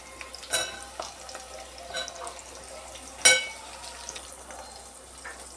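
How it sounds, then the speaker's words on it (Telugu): Bitter gourd pieces hit hot oil with fried onion, green chilli, cumin and dried red chilli in a pan, a soft sizzle with a few sharp crackles and spatula clinks. "నెక్స్ట్ ఇందులో కాకరకాయ ముక్కలు వేసుకుందాం."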